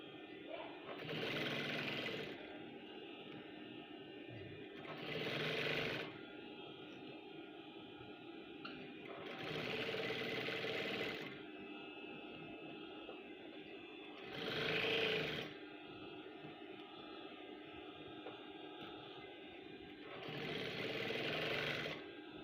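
A sewing machine stitches the waistband of men's trousers in five separate motor runs, each a few seconds of steady whirring and needle clatter, with quiet pauses between bursts, close and fairly soft.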